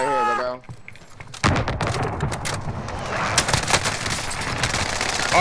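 A PPSh submachine gun rattles off in Call of Duty: Modern Warfare, loud rapid automatic bursts close by after a brief voice at the start, with firing and other battle noise continuing to the end.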